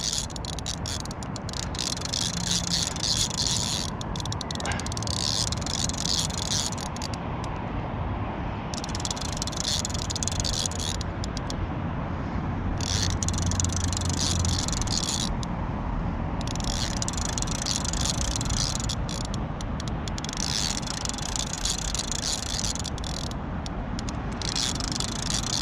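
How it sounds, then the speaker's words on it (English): A fishing reel drags out line under a hooked fish with a grinding, winch-like whir, steady and continuous at close range, surging in repeated bursts of brighter rasp over a constant low rumble. "There's the old reel. Sounds like a boat winch."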